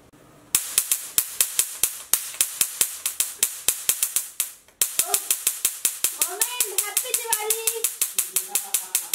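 Dragonfly and Cockroach firecrackers bursting at a home during Diwali: a rapid string of sharp, loud cracks in quick succession with a brief gap midway, then more pops while voices chatter underneath.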